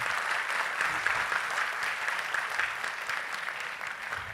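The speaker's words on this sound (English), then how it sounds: "A big round of applause for Hussain." Conference audience applauding a speaker, a steady wash of moderate clapping from a mid-sized crowd with no talk over it.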